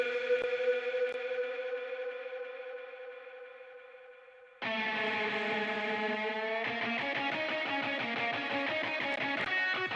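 Virtual MIDI guitars sequenced in Logic Pro X for a punk rock track, heavy with reverb and automated delay: a sustained distorted chord rings and fades, then a louder band of driving, chugging guitar strums cuts in and keeps going steadily.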